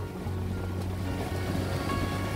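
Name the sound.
ocean waves at a beach, Península de Maraú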